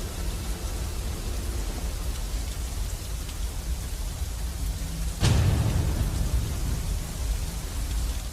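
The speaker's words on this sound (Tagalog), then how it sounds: "Sa tulong ng ulan, umagos ang tubig sa bangbang." Steady rain pours throughout a historical drama scene, and a sharp thunderclap cracks at about five seconds, leaving a louder rumbling wash of rain behind it.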